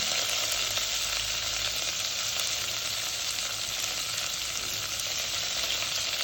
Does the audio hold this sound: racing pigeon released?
no